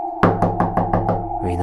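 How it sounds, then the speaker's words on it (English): Heavy knocking on a wooden door, a horror sound effect: six or seven loud, evenly spaced booming knocks in quick succession, close and resonant, with no voices. "the knocking got harder and more frequent"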